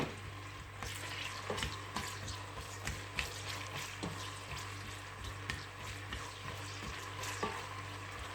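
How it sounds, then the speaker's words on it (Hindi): Sliced large onion browning in hot oil, a steady close sizzle and crackle with soft stirring scrapes at irregular intervals throughout, no voices. "सबसे पहले प्याज को ब्राउन करूँगी"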